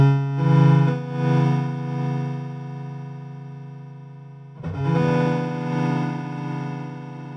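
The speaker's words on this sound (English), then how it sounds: "the LFO Fade Time will sound like this." A Boss SY300 guitar synthesizer holds sustained, buzzy distorted tones shaped by an LFO with fade time applied to amplitude. One note swells and slowly decays, then a second attack enters and swells again on its own.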